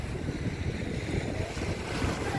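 Surf of the Indian Ocean rolling in at Dhanushkodi near the Ram Setu, where it meets the Bay of Bengal, a steady continuous wash of waves with wind buffeting the microphone throughout.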